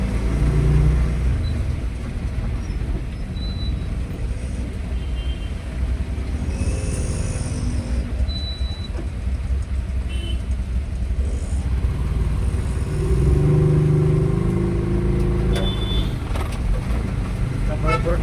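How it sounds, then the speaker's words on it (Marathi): Rainy-day road traffic in Pune, with cars, motorcycles and trucks rumbling past nearby, occasional horn toots rising over the steady engine drone and road noise. "बघा पुणेकर ट्रॅफिक बघा."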